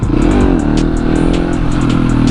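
A supermoto motorcycle engine is held under steady throttle during a wheelie, a loud, continuous close-up drone with a slightly wavering pitch.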